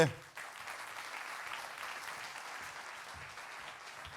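Audience at the Mont-Blanc comedy festival closing ceremony in Saint-Gervais applauds, a soft, distant patter of clapping that follows a brief louder onset, with a voice audible near the start.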